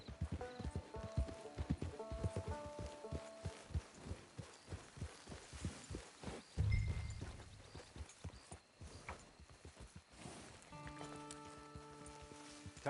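In the video game Red Dead Redemption 2, rhythmic clip-clop of horse hooves plods along at a steady walking pace, with a short louder thump midway and soft music underneath.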